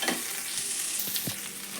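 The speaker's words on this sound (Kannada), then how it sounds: "ಒಗ್ಗರಣೆ ಒಳಗೆ ರೀ ಈ ಥರ ಎಲ್ಲ ಹುರ್ಕೋಬೇಕು" Beans and spices frying in tempering oil for a North Karnataka-style bean palya, a steady close sizzle with a few stirring scrapes, no voices.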